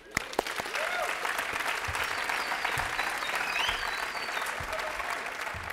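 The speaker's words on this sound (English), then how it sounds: "Sydney, you want to help me give them a quick round of applause?" A conference audience gives a quick round of applause after a talk on scaling a support team, with a few sharp claps at the start swelling into a full, sustained wash of clapping and some voices mixed in.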